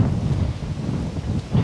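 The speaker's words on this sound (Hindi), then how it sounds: "इतनी ज़बरदस्त ठंडी हवा" Strong, cold wind blowing outdoors with fine sand flying, a loud, steady rumbling gust buffeting the microphone that swells again near the end.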